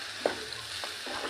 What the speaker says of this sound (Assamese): কেঁচা গোন্ধ নোযোৱালৈকে ভাজি থাকিম।